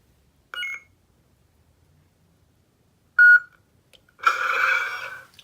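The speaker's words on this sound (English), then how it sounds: "Push and hold till you hear 2 beeps and then release." Two short electronic beeps from a custom lightsaber hilt, well spaced apart, followed by a louder, longer burst of a buzzy electronic tone; otherwise quiet.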